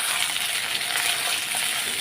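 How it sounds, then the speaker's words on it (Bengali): Potatoes frying in hot oil with bay leaf and cumin, a loud, dense, steady sizzle with constant crackling hiss throughout, no voices. "এখন আমি আলুগুলো একটু ভেজে নেবো লাল লাল করে"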